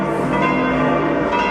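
Heavy church bells toll at the Vatican, a loud, sustained ringing with a rich humming resonance that fills the whole moment, with no voices over it.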